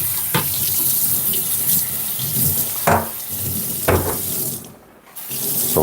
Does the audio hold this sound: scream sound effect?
no